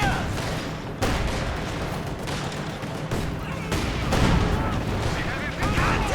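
Gunfire and artillery in a Company of Heroes 2 match, a dense continuous fusillade of rifle and machine-gun shots with heavy booming impacts, loud and unbroken throughout, with battlefield voice callouts mixed in.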